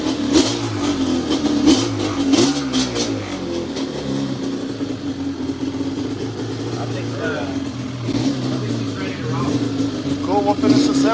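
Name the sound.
Yamaha Banshee dual-motor ATV engine revving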